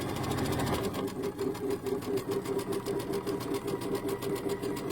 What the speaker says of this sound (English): I'm going to stitch all the way off the end of this piece.